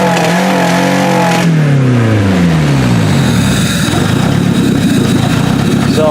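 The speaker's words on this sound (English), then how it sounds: "this car does sound like shit, but remember, this thing's been through for about 4 derbies now." A demolition derby car that has survived about four derbies, likely with no coolant and a blown head gasket, runs loud and rough up close, its engine note sagging and wavering unevenly throughout.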